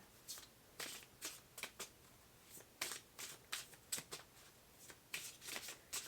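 Tarot cards being shuffled by hand during a Scorpio love reading, a quick series of crisp riffling bursts that come in uneven clusters, moderately close and with no voice over them.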